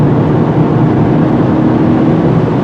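A 2025 Honda Civic Si rolling downhill, a steady loud broadband road and engine roar inside the cabin with no break, no talking.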